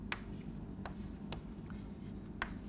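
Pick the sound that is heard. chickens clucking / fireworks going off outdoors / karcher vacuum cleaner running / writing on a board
writing on a board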